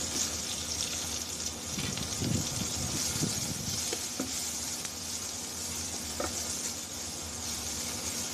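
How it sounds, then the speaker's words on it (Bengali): Chopped garlic and onion sizzle steadily in hot oil, a constant frying hiss with occasional soft stirring taps. "বন্ধুরা পেঁয়াজ রসুনটাও ভাজা হয়ে গেছে"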